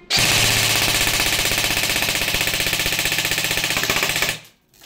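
A TUPA ETU V2 airsoft gun with an electronic trigger fires on full auto, a loud, fast, steady mechanical rattle of rapid shots lasting about four seconds before stopping abruptly.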